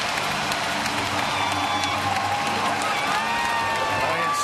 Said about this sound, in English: Now you've got the crowd back into it.